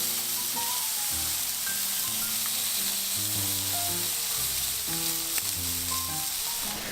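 Chicken sizzling on a grill, with a steady close hiss and crackle that runs unbroken, plus occasional small pops and no talking.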